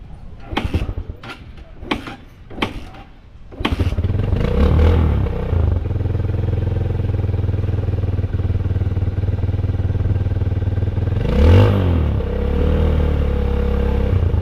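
A motorcycle engine runs roughly and misfires after a few sharp clanks, a loud continuous idle rumble with uneven surges and one brief rev near the end.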